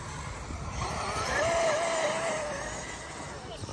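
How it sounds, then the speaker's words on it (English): A Traxxas Maxx Slash RC car running at speed some distance away, a thin motor whine rising and falling as it passes, over outdoor background noise. "It's running pretty fast though."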